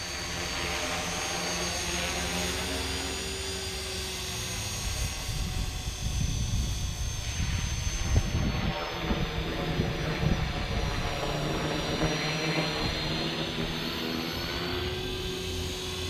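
An RC model helicopter flies outdoors in the wind, its buzzing rotor and engine whine rising and falling as it moves around at a moderate distance, with wind rumble underneath.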